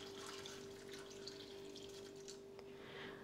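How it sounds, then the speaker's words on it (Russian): Hot water pours into a soup pot over chopped pumpkin and vegetables, a faint, continuous splashing trickle with a steady low hum behind it and no speech. "И заливаю горячей водой так, чтобы она только покрыла овощи."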